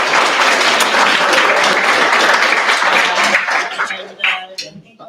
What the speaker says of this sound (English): can we get a round of applause to our guests?